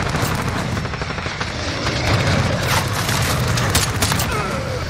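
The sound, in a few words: gunfire in video game Modern Warfare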